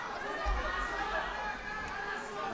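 Arena crowd at an MMA match rallying behind a fighter, a steady broad roar of cheering and chatter that holds level throughout, with low thumps from the cage floor.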